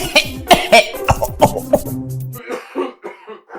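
A run of loud, close coughs in rapid bursts, tapering into softer hacking and throat sounds.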